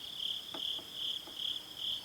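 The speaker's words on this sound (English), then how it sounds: "you can hear all the crickets" Crickets chirp steadily on a fall morning in the southern mountains of Appalachia, a dense, high, pulsing trill in a quiet outdoor setting with a few faint clicks beneath.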